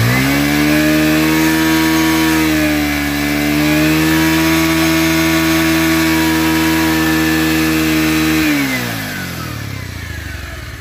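A black second-hand Bajaj Pulsar 150cc motorcycle with 12,143 km on it revs up loudly and close by. It holds a steady high drone for several seconds, then drops back toward idle.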